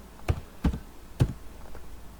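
A few separate keystrokes on a computer keyboard, each a sharp close tap with a soft dull thump, spaced irregularly over about two seconds in a quiet room.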